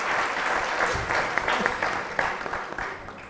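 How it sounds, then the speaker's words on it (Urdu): A studio audience on a television talk show claps: a lively burst of applause with a few sharper individual claps standing out, easing slightly toward the end, with no speech over it. "تالیاں"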